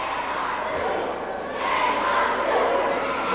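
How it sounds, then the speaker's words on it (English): Wrestling crowd at a 1992 Eastern Championship Wrestling event, voicing frustration at a manager outside the ring: a loud, steady roar of many voices with a swell of shouting partway through. "Glenn Osborne continues to work the crowd."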